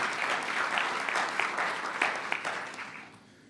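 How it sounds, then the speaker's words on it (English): An audience gives a round of applause for sponsors at a local business competition event, a soft, even spread of many hands clapping that tapers off over about three seconds. "let's give Carroll Community Media Center and all of our sponsors a big round of applause for supporting local business"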